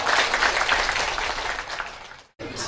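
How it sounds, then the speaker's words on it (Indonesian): Steady audience applause fills a 2017 best-subdistrict assessment event in Marancar, Tapanuli Selatan, holding dense and even before a brief break near the end, then resuming. "Tepuk tangan untuk kita semua."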